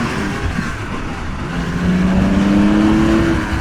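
A Porsche 911 with an air-cooled 2.7-litre flat-six revs close by, its raspy engine note climbing in pitch over the last half of the clip with no talk.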